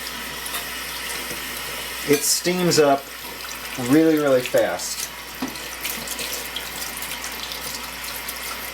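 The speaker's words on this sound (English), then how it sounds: "I'll take cold water and run cold along the outside" Cold tap water runs steadily into a sink and along the outside of a hot brewing pot holding a Christmas ale. The flow is a constant hiss throughout, with someone talking over it midway.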